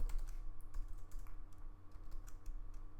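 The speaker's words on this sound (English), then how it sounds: "let me come down here and type this out" Someone types steadily on a computer keyboard, a run of close, light clicking keystrokes over a constant low electrical hum, with no voices.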